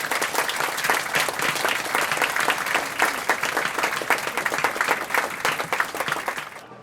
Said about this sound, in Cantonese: 用熱烈嘅掌聲去為每一位曾經為呢個大賽付出過嘅人士送上感謝